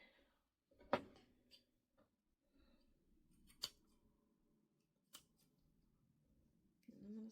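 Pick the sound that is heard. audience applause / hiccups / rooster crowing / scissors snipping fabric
scissors snipping fabric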